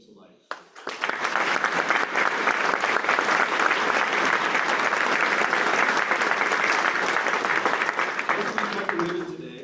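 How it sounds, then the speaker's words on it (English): A crowd gives a round of applause at a ribbon cutting ceremony for a mineral industries building, sustained dense clapping that rises quickly and holds steady for about nine seconds before tapering off. "Please join me in a round of applause to thank everyone who helped bring this vision to life."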